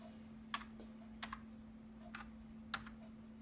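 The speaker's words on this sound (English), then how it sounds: "So we will see how keys will work, how the lights are working" Individual keys clack on a Logitech G910 Orion Spectrum mechanical gaming keyboard, four or five sharp, separate presses spaced irregularly and heard alone over a low steady hum.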